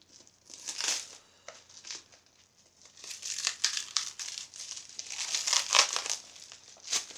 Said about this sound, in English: There we are, I've got past all the cellophane.